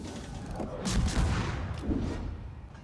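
Ship guns in a naval video game fire a few heavy booming shots, deep rumbling blasts that roll and overlap, loud and close, with faint talk underneath.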